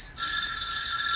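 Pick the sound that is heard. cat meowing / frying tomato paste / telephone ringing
telephone ringing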